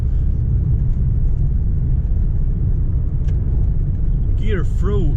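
A VW Golf MK2 youngtimer pulls through city streets in 4th gear, giving a steady low engine drone and road rumble heard from inside the car, with a brief higher tone near the end.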